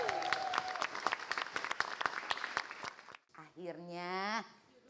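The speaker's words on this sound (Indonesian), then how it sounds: "Tepuk tangan yang meriah" An audience breaks into lively applause for a few seconds of dense clapping, then a voice takes over as it dies away.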